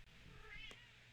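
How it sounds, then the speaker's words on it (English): A house cat gives a single clear meow, close and fairly loud, against a low background hum with no talking. "and that is my cat."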